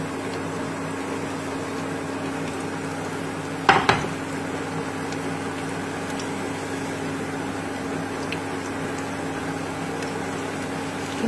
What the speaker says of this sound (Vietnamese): Đây, chiên lần 2 rồi này.